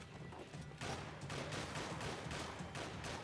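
Enemy gunfire in the video game Max Payne 3, a quiet, dense fusillade of repeated shots in bursts over distant background noise, with no one speaking.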